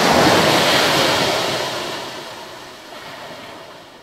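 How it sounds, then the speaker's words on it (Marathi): Sea waves wash onto the seashore with a broad, steady rush of surf and wind, loud at first and slowly fading over a few seconds, with no voices. "समुद्र किनारा, छान गार वारा."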